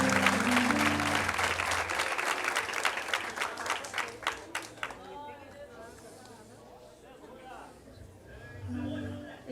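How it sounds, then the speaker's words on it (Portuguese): A church congregation applauds in praise, loud clapping that gradually thins and fades out, with a voice speaking under it and music returning at the end. "E as palmas louvam o Senhor Jesus."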